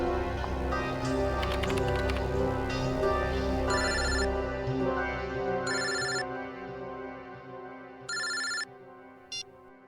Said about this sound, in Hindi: अभिजीत का फोन?